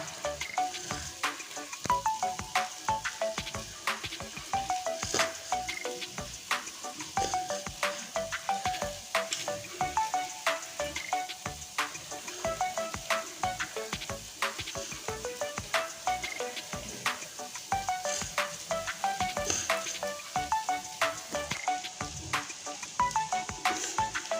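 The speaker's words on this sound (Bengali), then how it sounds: "এখন তেলটা সুন্দরভাবে গরম হয়ে গিয়েছে আর এখানে আছে কুমড়ো এবার একে একে ছেড়ে দেবো পকোড়াটা" Pumpkin pakoras fry in hot oil, giving a continuous close crackle and sizzle with dense popping that holds steady for the whole stretch.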